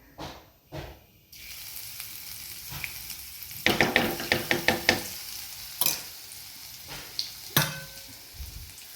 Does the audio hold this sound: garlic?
yes